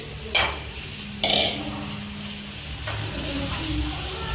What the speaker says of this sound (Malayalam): ഇനി ഇത് ഫ്രൈ ചെയ്ത് എടുക്കാം